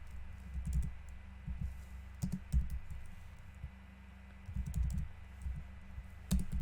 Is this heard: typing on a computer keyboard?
yes